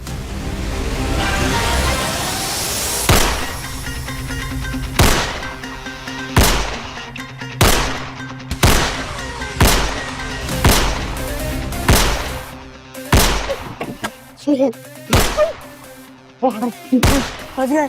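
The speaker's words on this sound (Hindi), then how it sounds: "यहाँ तो सचमुच की गोलियां चल रही हैं।" Sharp, loud gunshots crack out one after another in an uneven burst, some close together, over a rumbling background with shouting.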